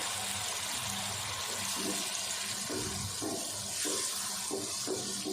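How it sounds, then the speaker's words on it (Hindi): Milk being poured into a pot of melted sugar for degi zarda sweet rice, a continuous liquid pour and splash that is fairly close and steady, with no talking. "आधा कप दूध डाल देंगे।"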